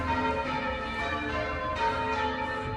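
Church bells ring loud and close, a sustained, overlapping peal of rich metallic tones with no voices.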